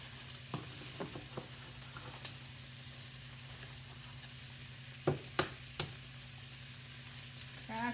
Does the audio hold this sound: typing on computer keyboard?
no